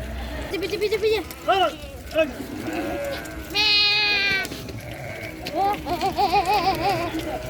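Goats bleat repeatedly at a livestock market in Jeddah, their wavering calls loud and close and overlapping one another, while people talk in the background throughout.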